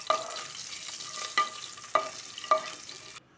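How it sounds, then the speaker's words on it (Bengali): Singi fish frying in a pan and being lifted out with a utensil: a close, continuous oily sizzle broken by four sharp metallic scrapes or clinks at roughly even intervals, then a sudden stop. "মাছগুলো ভাজি হয়ে গেছে। এবার তুলে নেব"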